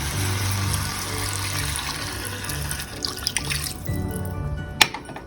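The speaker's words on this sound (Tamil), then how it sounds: "ஸோ 1 டம்ளர் தண்ணி ஃபஸ்ட்டு ஊற்றிடலாம்" Water pours steadily into a pot for vegetable biryani, then stops, followed by a few faint drips and a small clink.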